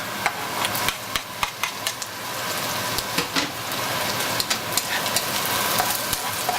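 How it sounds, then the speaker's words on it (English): Onions, garlic and galangal root fry loudly in a pan for a coconut fish and shrimp noodle stew, a dense continuous sizzle like heavy rain, punctuated by sharp spatula taps and scrapes, close and alone. "So now I'm going to add the garlic and the galangal root."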